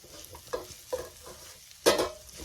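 A spoon stirs risotto rice with salt in a pan, soft scraping strokes with a faint sizzle, one louder scrape near the end, quiet and close.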